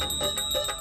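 Small bells hanging from a dhoti jingle in a quick, bright tinkling burst, close and clear, with no voices over them.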